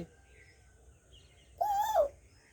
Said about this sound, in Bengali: তাই তো রে দাদু ভাই, কোকিল ডাকছে।